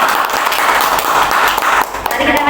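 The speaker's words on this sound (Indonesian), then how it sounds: "Beri tepuk tangan buat Bapak Ibu" Teachers at a training session clap their hands, a loud, dense burst of close applause from a group that dips briefly and then surges again, with a voice briefly heard under it.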